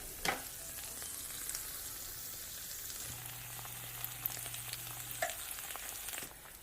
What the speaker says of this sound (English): what I like to do is get this entire thing and put it right back on my griddle